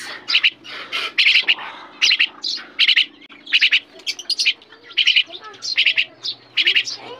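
Eurasian tree sparrows chirp nearby in repeated sharp bursts of high tweets, choppy and loud, separated by brief gaps over a faint low hum.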